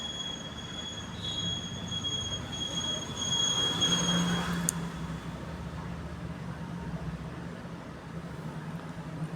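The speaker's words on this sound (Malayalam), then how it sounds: "ഞങ്ങളുടെ ട്രെയിൻ പുറപ്പെട്ട് കഴിഞ്ഞിരിക്കുകയാണ്." A Karwar to Madgaon special express train pulls away, its wheels squealing loudly and continuously over a heavy rolling rumble, heard close up from the train.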